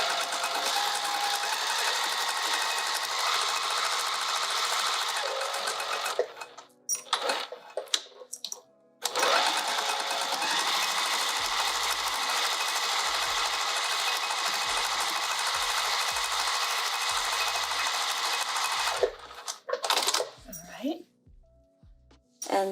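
A sewing machine stitches the edges of an open wide pouch in two long, steady runs, with a break of clicks and handling noise between them and more clatter as it stops.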